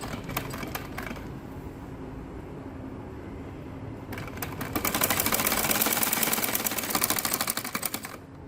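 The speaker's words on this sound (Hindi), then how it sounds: "अब सिलाई हम साथ साथ लगा रहे हैं।" A sewing machine stitches a salwar bottom, first in a softer stretch and then in a loud, fast continuous whir of rapid needle clatter that ends abruptly near the finish.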